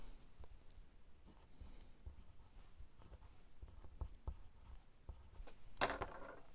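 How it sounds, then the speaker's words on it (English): A pen writes in red ink on paper, giving soft, close scratching strokes in short irregular runs that end in one sharper, louder scrape. "Then we'll write something else over it."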